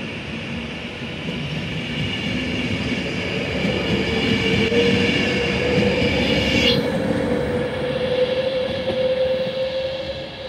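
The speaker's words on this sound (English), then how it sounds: "so we'll just watch the train go now." Train pulling out of Coventry station, a steady rolling rumble with a rising tonal whine and a brief high squeal, heard from the platform at moderate distance with no talking.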